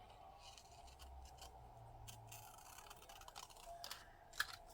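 Scissors trim paper ephemera for a planner: faint, close snips and light paper rustles in short irregular cuts, with one sharper click near the end, quiet and without speech.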